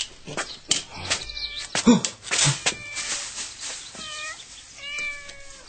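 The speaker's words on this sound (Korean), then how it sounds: "몸을 사렸다가 사삭 사라지는 고양이 소리." A cat meowing several times, with drawn-out, wavering cries close by and some rustling between calls.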